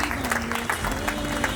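Guests at an official wedding in Congo-Brazzaville applaud the bride, a short burst of dense clapping with a sustained tone and murmuring voices underneath.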